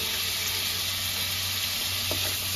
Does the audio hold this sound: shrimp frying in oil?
yes